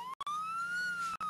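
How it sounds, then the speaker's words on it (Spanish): A siren wails steadily with a slowly rising then falling pitch, briefly cut by short dropouts, loud and close with no talking. "Te dejo que estoy escuchando la sirena."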